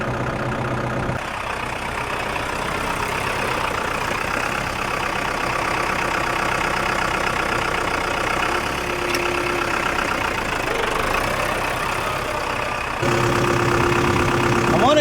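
A 5510 tractor engine idles steadily and loudly at close range, a constant diesel drone with slight knocking, running throughout without pause.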